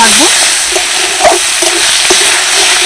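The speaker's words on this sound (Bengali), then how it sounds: "এই চর্বিগুলোকে বেশ কিছুক্ষণ একটু নাড়াচাড়া করব" Dry stirring and scraping of fat pieces in a hot wok without oil, a soft sizzle underneath, steady and close, with a few sharper clinks of the utensil.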